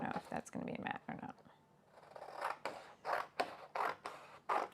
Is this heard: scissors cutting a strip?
yes